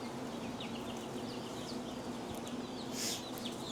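Serama and Silkie chickens in a brooder, with soft clucks and small peeps scattered over a steady low hum, close and at moderate level.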